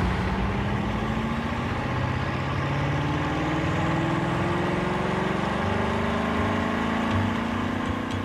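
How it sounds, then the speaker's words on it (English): A Bugatti Chiron engine runs at full throttle on a test stand in a steady, loud drone, its deep tones slowly rising in pitch as it holds a sustained high-power run. "To prove the engine's metal, they run it for 25 hours straight at full throttle."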